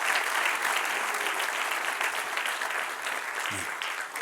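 A church congregation applauds together, a dense steady wash of clapping that fills the room and fades slightly toward the end, with a voice briefly heard.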